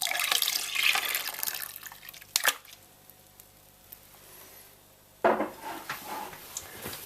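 Hop tea is poured from a container into bitter wort in a fermenter while brewing an IPA, a splashing pour that fades, then a knock and a second burst of liquid pouring.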